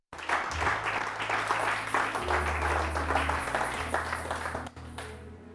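A church congregation applauds and cheers with sustained, lively clapping and raised voices over a low musical drone, fading somewhat near the end.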